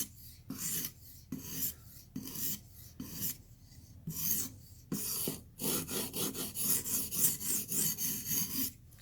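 A knife's edge bevel, favouring the tip, is worked on a clamp-style sharpener: about a dozen close, rasping strokes at a steady rhythm, quickening into a rapid run of short back-and-forth passes toward the end.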